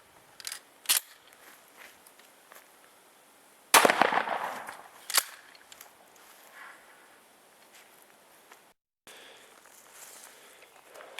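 A Remington 870 pump shotgun fires a few sharp, distant-sounding bangs, with one much louder blast standing out midway, separated by quiet stretches with faint background noise.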